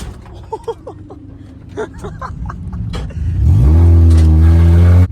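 Honda Civic on newly fitted coilovers, starting with a low rumble under people talking, then the engine revs up loudly and holds a strong steady drone near the end.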